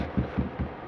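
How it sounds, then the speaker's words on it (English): Three dull, muffled thumps land at an even pace, low and heavy, as a dog knocks against a nearby door. "that's my dog knocking on the door over there."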